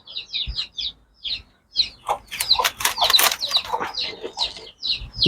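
Hens give repeated high clucks and brief squawks close by as they crowd under a basket, with some rustling and wing flaps in the busier middle stretch.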